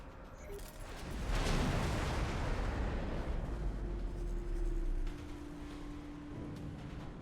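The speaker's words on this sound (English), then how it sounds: "Are they blowing up random parts of the station?" Rolling explosions aboard a space station in a video game, a broad low rumbling blast that swells after the first second and holds loud for several seconds before easing to a steady hum.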